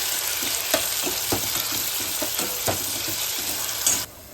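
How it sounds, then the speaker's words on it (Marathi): Tomatoes frying with browned onion in a pan for spicy misal: a steady close sizzle with several soft stirring scrapes, ending abruptly. "आता लगेच त्याच्यात मी टमाटा घालते. टमाटा पण छान भुजायचा."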